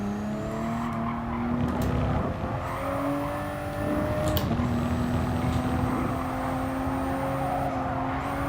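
Toyota GR Supra GT Cup race car in the racing game GT Sport, its engine droning steadily throughout with pitch rising and falling through gear changes, with brief tire squeal as the oversteering car slides.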